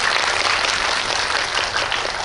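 A theater audience at a film talk event in a Seoul cinema claps in a continuous, dense burst, loud and close, with no voices over it.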